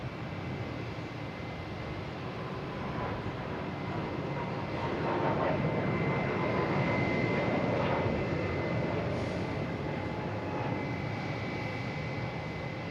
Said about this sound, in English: So Aer Lingus going right in front of me here.